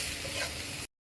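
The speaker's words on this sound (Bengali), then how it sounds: "পেঁয়াজ রসুন একটু ভেজে নিব।" Onion and garlic sizzle steadily in hot oil in a pan, a dense continuous frying hiss with faint stirring, cut off abruptly by a brief silence near the end.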